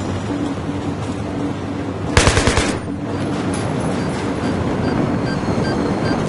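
Rapid burst of gunfire in the video game Battlefield 3, a loud close volley of about half a second standing out over a steady background rumble of game noise.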